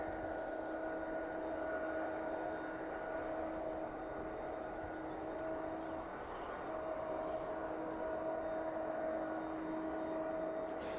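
A passenger jet taxis at East Midlands airport, its steady engine whine and hum sitting at a moderate distance for the whole stretch with no sudden peaks.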